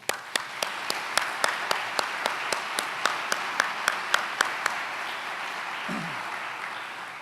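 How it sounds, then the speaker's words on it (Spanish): Applause at a lecture sounds as sharp, evenly spaced claps over a low hum of room noise. The clapping is sparse and steady and fades out after about five seconds. "Pido, por tanto, para ellos un fuerte aplauso."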